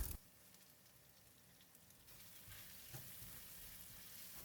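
Ginger, garlic and spices sizzle and fry in a pan while being stirred, a soft continuous crackle with occasional scraping stirs, quiet and close, no talking.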